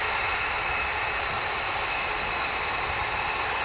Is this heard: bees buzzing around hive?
no